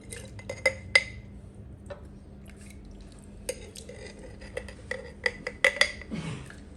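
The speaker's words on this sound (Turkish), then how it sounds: "Şimdi bunu kavanozlara alıyorum." Beet pickle being spooned and poured into glass jars, close clinks and taps of utensil on glass with soft liquid drips, scattered irregularly, with no talking.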